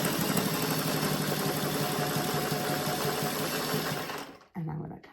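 A sewing machine back tacks through a fabric-scrap jelly roll rug, a close, steady whirring stitch that runs for about four seconds before stopping, followed by a short restart.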